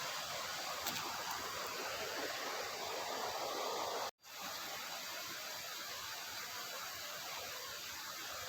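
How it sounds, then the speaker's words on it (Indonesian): A constant, dense roar of falling water from Nyarai Waterfall in Lubuk Alung, West Sumatra, broken by a split-second dropout midway before the steady rush resumes. "Deru air terjun terdengar menenangkan."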